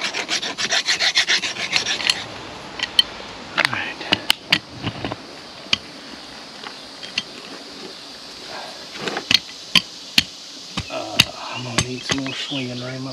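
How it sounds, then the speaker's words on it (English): A hand file rasps burrs off the cut end of an old water pipe in a 140-year-old farmhouse, with bursts of close scraping strokes, pauses, and sharp metallic knocks and clinks in between. "We'll work it down a little more with this file and get some of those burrs off."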